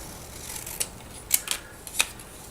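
A few sharp scissor snips cut through paper, sounding close and crisp, spaced irregularly against a quiet background.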